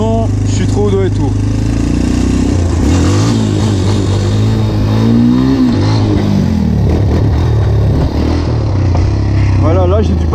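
A Yamaha Raptor 250 quad engine revs loud and close as it is lifted into a wheelie in first gear, with the pitch rising through strained, uneven bursts before a shift. Someone talks over the engine throughout.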